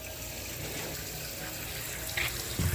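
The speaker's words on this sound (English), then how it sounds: "Rinsing some of this off." Running water rinses filthy parts clean, a steady, soft hiss of flowing water with light splashing and a few small knocks near the end.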